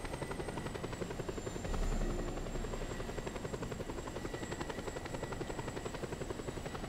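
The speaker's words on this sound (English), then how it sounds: "Helicopters make traveling a lot easier" A helicopter in the video game Just Cause 2 drones with a steady rotor buzz and engine hum, close and continuous with no talk over it.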